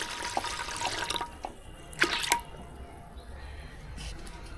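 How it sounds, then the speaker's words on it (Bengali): Water being added to washed lentils in a pot for boiling, a short splashing pour with a few clinks and drips, close, then quieter background. "আর একটু পানি দিয়ে দিচ্ছি সিদ্ধ হওয়ার জন্য"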